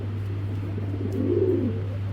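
A large racing pigeon gives a soft, brief coo over a steady low electrical hum, close by and otherwise quiet.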